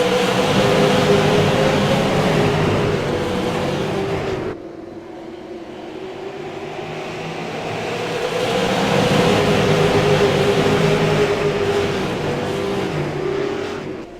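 Race cars at Irwindale Speedway accelerating out of turn four on a restart, a loud sustained engine roar that dips briefly and then surges again as the pack passes, steady and dense with no voices.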